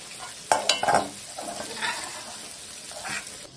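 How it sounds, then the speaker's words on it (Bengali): Young jackfruit and potato fry together in hot oil, a soft sizzle with several sharp stirring scrapes near the start that fade to a quieter bubbling. "এঁচোড়গুলো দিয়ে দেবো, দিয়ে এগুলো একটু একসাথে ভাজা করে নেব"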